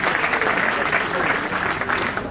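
A roomful of wedding guests claps steadily and loudly, a thick sustained patter of many hands with no clear pause.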